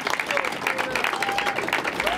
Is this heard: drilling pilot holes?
no